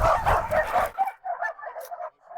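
A dog lets out a run of short, high yips and barks against a rumbling, noisy background, then a few quieter yelps follow once the background drops away.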